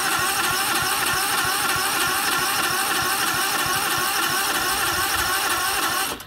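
A lawn equipment engine, started with the key starter, runs at a steady loud idle with a rapid even chug, close by, then cuts off abruptly at the end.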